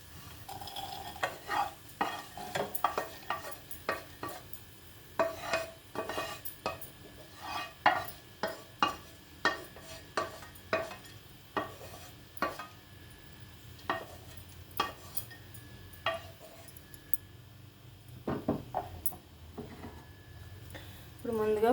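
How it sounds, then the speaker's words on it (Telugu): Flax seeds and sesame seeds roasting in a pan, stirred with a utensil that scrapes and taps in a steady series of sharp strokes over a faint sizzle, close and quiet, with some speech now and then. "ఫ్లాక్స్ సీడ్స్, నువ్వులు విడివిడిగా వేయించుకోవాలండి"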